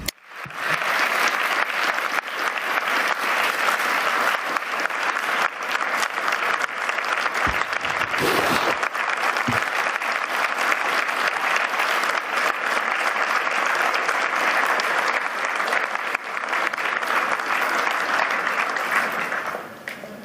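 Sustained, steady applause from a large audience at the World Economic Forum in Davos after Mark Carney's speech, dense and even for about twenty seconds before tapering off at the end.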